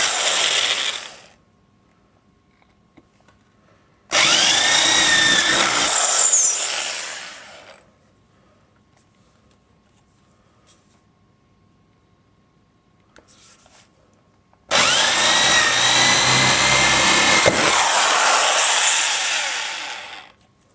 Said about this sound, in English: so I'm having to use good old electric drill. So there's going to be a bit of noise